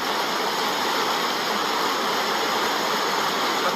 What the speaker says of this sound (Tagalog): lalong lumakas ang baha!